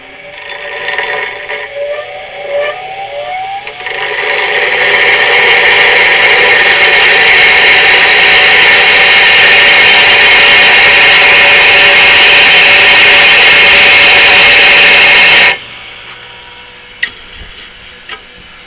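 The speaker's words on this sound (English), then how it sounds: "I'm just going to do a rough grind first, get them close" An angle grinder rough-grinds metal parts for a DIY wind generator, spinning up after a few quiet seconds into a loud, steady high-pitched whine with grinding hiss that runs about eleven seconds, then cuts off abruptly to near silence with a couple of faint clicks.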